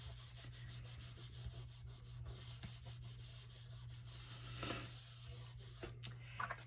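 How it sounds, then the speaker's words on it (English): A paper journal pocket insert is burnished flat with rapid back-and-forth rubbing strokes, soft, close and scratchy in a steady rhythm over a low background hum. "Then I am just going to close the top right down and burnish"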